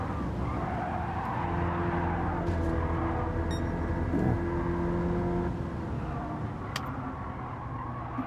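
A petrol race car engine in a racing video game drones steadily in a sustained tonal hum, with tyre skidding and a brief pitch sweep midway, and no voices over it.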